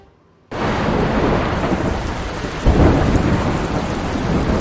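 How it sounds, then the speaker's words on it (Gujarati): Heavy monsoon rain pours down in Mumbai, a dense loud roar that begins abruptly and holds steady, with a deep thunder rumble swelling partway through. "માયાનગરી મુંબઈમાં આજે મુશળધાર વરસાદથી જળબંબાકારની સ્થિતિ સર્જાઈ"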